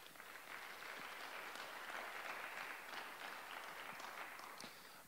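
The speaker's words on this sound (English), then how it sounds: "Let's give one more round of applause for our panelists." A conference audience claps for panelists at a Springfield forum, a steady wash of applause heard from a distance, fairly faint, lasting several seconds without speech.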